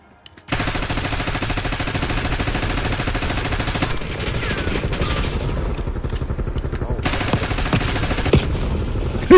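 Dense, continuous automatic gunfire from a Call of Duty: Black Ops 6 Face Off match, loud and close, rattling steadily for about nine seconds after a brief quiet start, with clattering impacts mixed in.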